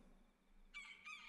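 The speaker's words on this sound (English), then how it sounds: "That was a loud bird." A loud bird call from the Little Dragons Cafe video game, two short bright cries in quick succession at the end of a near-silent moment.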